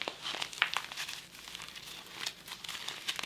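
Clear vinyl mini zip pouch crinkling as it is turned right side out, a close run of crisp irregular crackles and rustles with brief sharper snaps.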